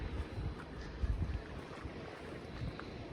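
A northeasterly wind blowing along a sheltered undercliff by the sea, soft low rushing with gentle gusty swells, faint and steady with no voices.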